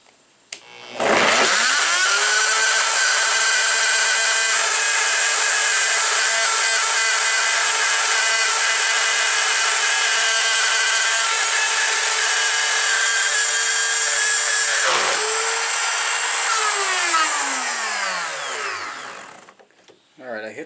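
A power drill bores a hole for a door lock, holding a loud, steady high whine for about fourteen seconds, then briefly dipping and spinning down near the end.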